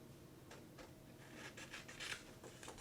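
Small scissors cut out the embossed paper piece from a Quickutz folder run through a Cuttlebug, giving a few soft, close snips and rasps that grow slightly louder toward the end against a faint background.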